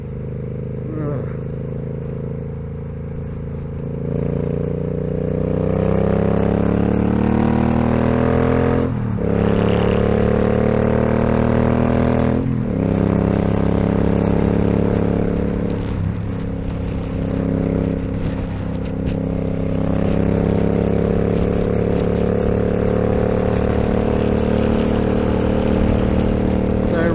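A motorcycle cruising at highway speed, around 75 mph, gives a steady loud engine drone with wind rush throughout and a few brief gusts or shifts in the roar.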